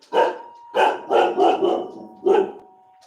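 A pet dog barks six times in sharp, loud bursts close by, in two quick clusters with a short pause between, and no one speaks over it.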